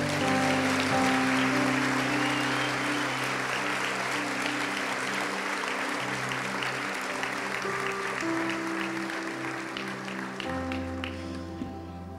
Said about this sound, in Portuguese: Dá um aplauso bem forte para Jesus